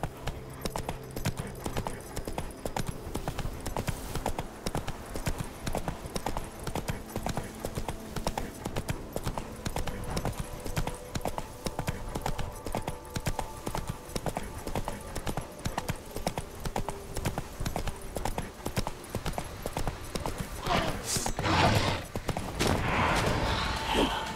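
Steady, rapid hoofbeats of a galloping horse in The Witcher 3: Blood and Wine, a continuous clip-clop rhythm running close and loud throughout, with a brief burst of extra noise near the end.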